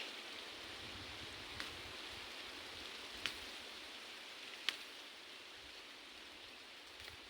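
Outdoors, rain falls steadily in a soft even hiss, with a few sharp drips tapping a plastic cover nearby and no talk.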